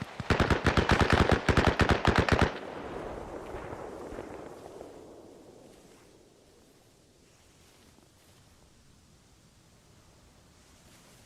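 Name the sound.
gunfire in video game Arma Reforger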